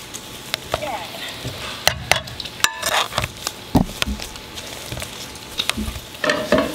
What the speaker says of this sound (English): You just want to cook this until the bacon starts to go nice and crispy and the onions are all caramelized.